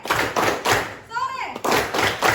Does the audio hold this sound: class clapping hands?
yes